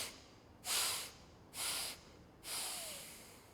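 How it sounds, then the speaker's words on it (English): Three slow, breathy exhales during a yoga breathing exercise, close and soft, each a hiss lasting about half a second, separated by quiet pauses. "And then you exhale for 4."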